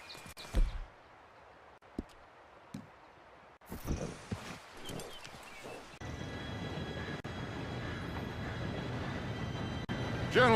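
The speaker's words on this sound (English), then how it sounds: "Train should be here any minute now." A train rolls in within the Red Dead Redemption 2 game, a steady rumble building and holding from midway on after scattered footsteps and rustling, loud and continuous to the end.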